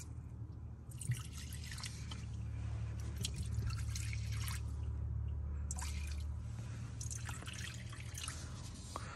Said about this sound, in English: we'll just pour some transmission fluid on top of that